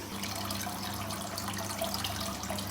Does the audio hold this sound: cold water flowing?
yes